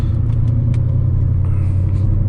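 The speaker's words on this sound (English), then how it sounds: "This car sounds amazing. That's pure music right there." A Mercedes E55 AMG V8 with long-tube headers, an 82mm throttle body and a bigger exhaust drones loudly from inside the car, a deep, steady rumble that holds without a break throughout.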